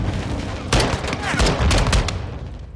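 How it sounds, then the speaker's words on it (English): Modern Warfare 2 campaign combat brings rapid bursts of gunfire and grenade blasts, close and loud. Shouting voices come through over the firefight. "Incoming! Take cover! They're launching grenades!"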